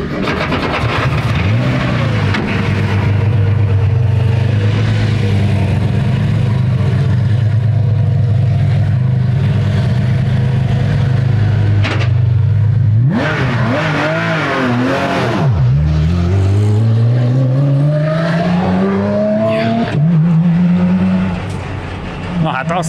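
Porsche 997 GT3 Cup race car lapping a circuit, its engine loud and close with rising revs through the gears, drops on downshifts and bumps over kerbs and curves.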